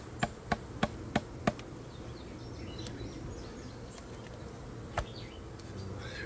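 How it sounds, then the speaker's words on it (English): Honeybees from a hive being shaken and moved into a hive box give a steady, close insect hum. A few sharp knocks come early on and one more follows later. "There's a lot of bees in there now."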